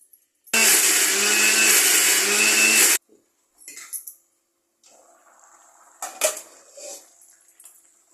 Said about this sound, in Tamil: வதக்கி வச்ச வெங்காயம், தக்காளி, பச்சை மிளகாய், கொஞ்சம் தேங்காயில் கொஞ்சம் சோம்பு போட்டு அரைச்சி எடுத்துகிட்டு வந்துடலாம்